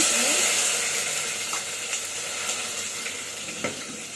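Cinnamon, cloves, cardamom and bay leaf fry with onions in oil for biryani, a loud, continuous close sizzle that eases slightly, with occasional light stirring clinks.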